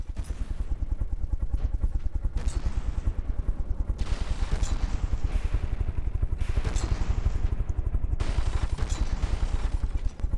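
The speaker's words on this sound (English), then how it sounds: "our Gatling cannon's getting hits" A Gatling cannon in the video game From the Depths fires continuous rapid bursts that rattle on without pause, dense and loud, with short breaks in the hissing top end as firing shifts.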